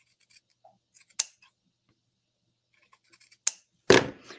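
Scissors snip craft vinyl for a patriotic door hanger, several short crisp cuts spaced apart with quiet gaps, close and fairly loud, ending in a longer scraping cut.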